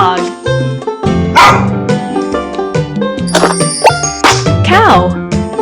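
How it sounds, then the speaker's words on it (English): A cartoon dog barks amid bright jingling music and chiming tones in a children's matching game, with a voice talking over parts of it. "Dog."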